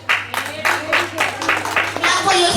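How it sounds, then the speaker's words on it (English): Children applauding at a school assembly, a burst of irregular clapping in waves, close and lively, with voices mixed in. "A big round of applause for all of you."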